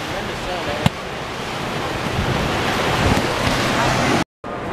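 Surf and wind on the beach at South Padre Island, a continuous loud wash of waves with wind buffeting the microphone, one sharp knock and a brief dropout near the end.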